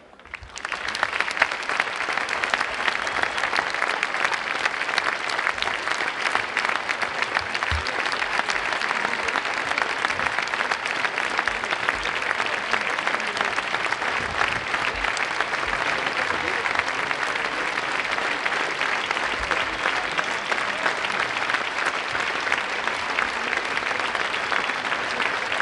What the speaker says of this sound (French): Ensemble, observons une minute d'applaudissement en mémoire à ces personnes